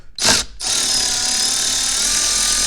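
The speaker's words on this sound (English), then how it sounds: "you have to get in, be ratcheting wrench, and take out two" A ratcheting wrench loosening 7mm bolts on the driver-side blend door actuator of a 2002 Chevy, heard as a short burst followed by a steady, loud, close buzzing whir, with no talking.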